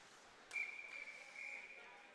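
A referee's whistle sounds at a college club ice hockey game between Arizona State and UTEP: one sharp, sustained shrill blast lasting about a second over steady arena crowd noise.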